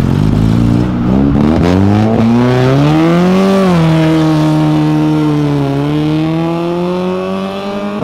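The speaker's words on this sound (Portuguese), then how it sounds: "o palio é 6 cilindros, mas só tá funcionando 2" A Fiat Palio car engine revs loudly up close, its pitch climbing and falling in a sustained sweep with no talk over it, at a car event.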